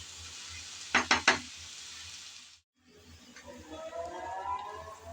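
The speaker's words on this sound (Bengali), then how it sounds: "আবারও একটু নেড়ে চেড়ে মিশিয়ে নিলাম" Drumstick leaves frying in a pan are stirred, with three quick scraping knocks, a steady sizzle, a brief drop to silence, then renewed frying and stirring noise.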